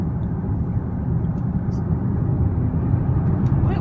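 A 2016 Audi Q5 SUV with a 3.0 TDI diesel engine drives along, its steady low engine hum and road rumble filling the cabin evenly and continuously, with no voices.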